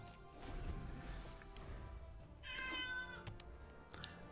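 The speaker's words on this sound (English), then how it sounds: "Sorry if you can hear my cat meowing in the background." A house cat meows in the background during a Magic: The Gathering Arena session, a couple of clear mid-pitched calls rising over steady room noise and game sounds.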